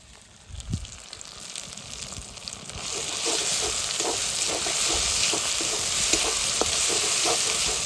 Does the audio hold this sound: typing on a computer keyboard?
no